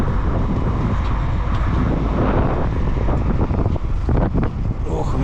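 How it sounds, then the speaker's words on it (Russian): Strong wind buffets the microphone on the Yakutsk–Nizhny Bestyakh river ferry, a steady loud roar filling the whole stretch with some faint rumbling and clatter beneath, and brief speech-like sounds near the end. "Ох, ветрено как."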